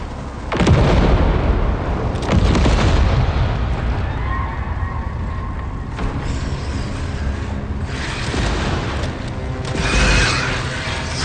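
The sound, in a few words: grenade explosion in Alien: Rogue Incursion video game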